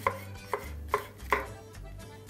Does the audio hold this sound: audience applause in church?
no